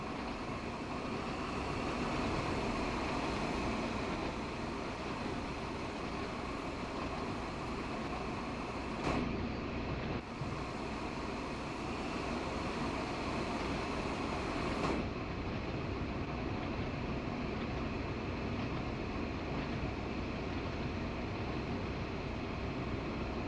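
A train coasting along a line in the Train Sim World 2 game, a steady low rumble and hiss of running gear that holds constant throughout, with a couple of brief clicks near the middle and no talking.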